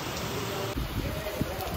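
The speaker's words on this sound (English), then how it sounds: "It is raining heavily." Heavy rain falls at night at a roadside bus stop, a steady close hiss of water with scattered drip impacts.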